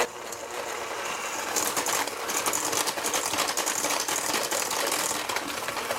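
An electric mixer blends brown sugar into pumpkin spice doughnut batter, a steady, close whirring drone with faint rattling against the bowl, continuous throughout with no voices.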